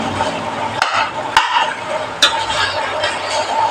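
Breadfruit pieces being stirred and mashed in a pot of beef curry, with steady scraping and a soft sizzle broken by a few sharp knocks of the spoon against the pot, close and moderately loud.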